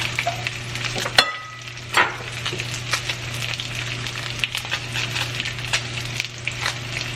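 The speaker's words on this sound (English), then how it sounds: "I'm going to start the asparagus. Just add some butter and some oil." Asparagus cooking in butter and oil in a pan, a steady close sizzle with occasional utensil scrapes and clicks against the pan.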